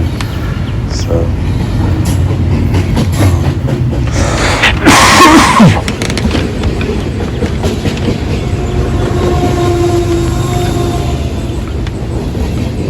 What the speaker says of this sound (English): Decent little train.